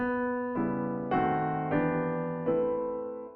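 Five rich jazz piano chords in drop-two voicings are struck one after another at an unhurried pace, each ringing and fading slightly before the next.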